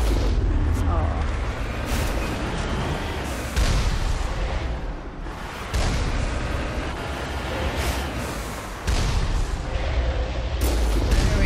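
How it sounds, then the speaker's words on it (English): Turret gunfire in the Mass Effect game, coming from two directions including a turret on a hill: a continuous barrage of heavy booming blasts and rumbling impacts, loud and dense throughout, with someone talking over it. "Who else is shooting me? Another turret on the hill."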